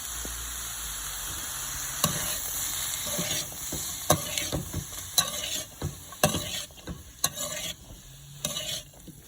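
Chopped tomatoes are stirred through a hot frying pan for upma, a steady sizzle punctuated by repeated sharp scrapes and clinks of a spoon against the pan, close and loud with no voices.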